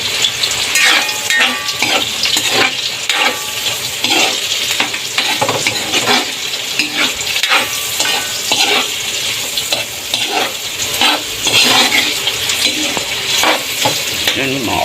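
Shrimp sizzles steadily in a hot pan with sautéed onion and garlic, stirred with a utensil that clinks and scrapes against the pan, a loud, continuous frying hiss close by throughout.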